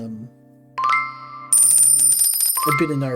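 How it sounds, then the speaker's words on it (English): In the video game Centipede Simulator, a shrill electronic new-record jingle plays: bright, piercing bell-like tones step upward in pitch, loud and close, over about three seconds. "that new record sound, that hurts my ears"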